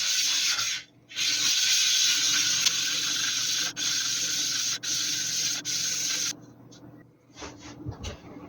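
A 1200-grit silicon carbide whetstone rubbed across a flat lapping plate, a steady loud gritty scraping in long strokes with brief pauses, then fading to quiet handling noises.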